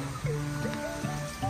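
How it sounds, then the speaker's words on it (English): Running water from rice terraces in Bali, a steady soft trickle and flow heard alone throughout. "all you can hear is running water from the rice terraces"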